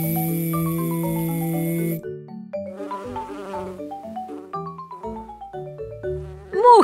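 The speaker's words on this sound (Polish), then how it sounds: "Mucha bzyczy." A fly buzzes with a steady, harmonic-rich drone for about two seconds before light, sliding cartoon music takes over.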